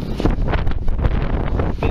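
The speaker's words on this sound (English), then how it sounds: "Bit windy." Loud, gusty wind buffeting the microphone during outdoor metal detecting, rumbling and crackling throughout without a break.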